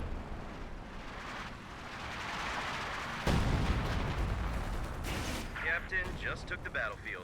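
Rumbling artillery barrage in a multiplayer strategy game, a dense continuous roar of distant shelling with heavier thuds partway through, playing under a commentator's voice.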